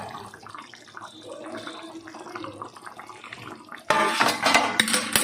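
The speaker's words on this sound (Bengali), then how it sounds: "এবার ঢাকনাটা খুলে নেব।" A metal lid comes off a cooking pot of egg curry with a sudden loud clatter, followed by a burst of sizzling and bubbling after a quieter stretch of soft kitchen noise.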